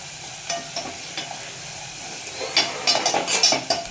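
Onions fry in a pan for masala dal with a continuous close sizzle, and stirring scrapes grow louder and more frequent toward the end, with no talking.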